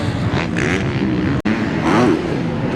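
Motorcycles race around a supercross track in Las Vegas, engines loud and sustained with revving and accelerating surges, broken by one brief dropout midway; no speech.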